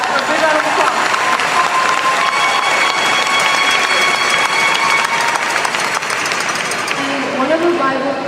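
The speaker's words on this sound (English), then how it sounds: "that's a big round of applause" A big round of applause fills a prom event hall, dense steady clapping from a large crowd running loud and continuous throughout, with some cheering mixed in.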